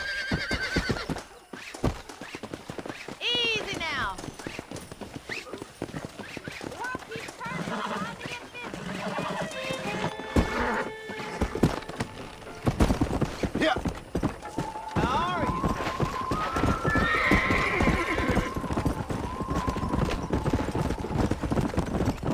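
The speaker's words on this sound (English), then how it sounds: "That ranch hand said there's a pack of wild horses nearby." Wild horses in Red Dead Redemption, a galloping herd with rapid clip-clop hoofbeats and several sharp whinnies, set against outdoor game ambience with a character speaking over it.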